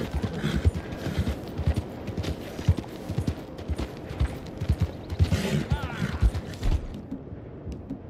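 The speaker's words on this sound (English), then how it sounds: "That there's a good old horse." Horse hooves clip-clop at a steady walking rhythm in the Red Dead Redemption 2 video game, a close series of hollow knocks with faint creaking and low game ambience behind them.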